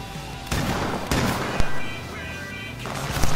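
Gunfire in the online battle game H1Z1: four or five sharp, booming shots in quick succession, loud and close, each one ringing out over a steady background hiss.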